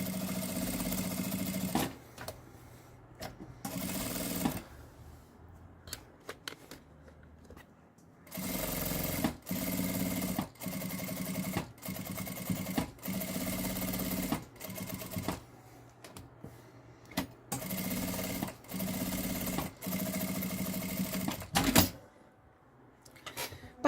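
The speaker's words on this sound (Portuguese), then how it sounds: "passa uma costurinha na beiradinha em toda a volta" A sewing machine runs stitches along the edge of a fabric wallet in several bursts of rapid mechanical whirring separated by short pauses, close and clear in a quiet room.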